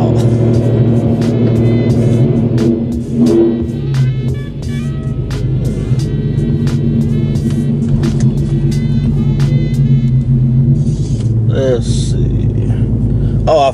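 A Hyundai Genesis Coupe fitted with a new short shifter drives along, its loud, steady engine rumble heard from inside the cabin, with a voice speaking over it.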